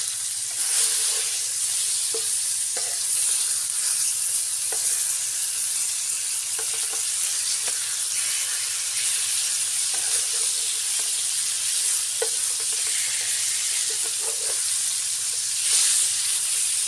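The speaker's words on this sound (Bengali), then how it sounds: "যতক্ষণ না ভালো করে হচ্ছে ততক্ষণ আমি আরও ভালো করে ভেজে নিচ্ছি।" Fish sizzle in hot oil in a pan while being fried for a fish bhuna, a dense, steady hiss with occasional soft pops and turning sounds, close and continuous without speech.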